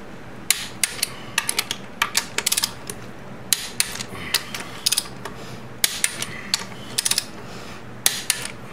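Bolts on a 2002 BMW K1200RS motorcycle final drive tightened with a ratcheting torque wrench in a crisscross pattern, bursts of rapid close ratchet clicks separated by short pauses, repeated many times.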